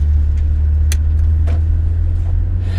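Steady low engine drone from a semi truck pulling onto the interstate, heavy and continuous at close range with a few faint clicks and rattles above it, no one speaking.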